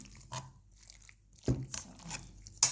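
Chicken longganisa mixture is worked by hand in a bowl, giving soft, irregular squishing and crunching bursts, fairly close and quiet, with short pauses between them and no talking.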